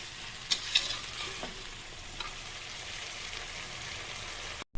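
Potol (pointed gourd) and potatoes fry in oil in a pan while being stirred, giving a steady close sizzle with a few sharper scraping stirs near the start and no talk.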